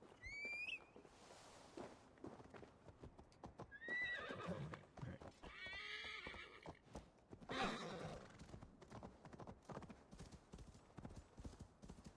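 Rhythmic clip-clop of horse hooves on hard ground in the video game Assassin's Creed Valhalla, with a couple of loud neighs and whinnies breaking in early and midway.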